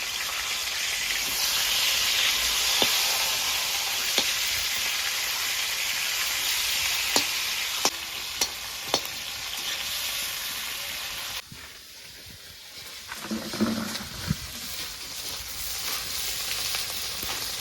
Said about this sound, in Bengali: মাছের মাথাটাকে ভেঙে ভালো করে ভেজে নিয়েছি